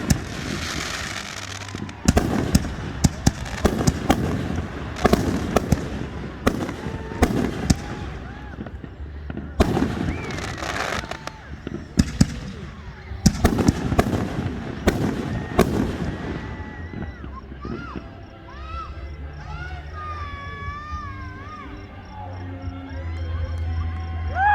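Live fireworks display in Boxholm, Iowa, with rapid thumping bursts and crackling at a distance, clustered in waves, then fading as people talk and cheer.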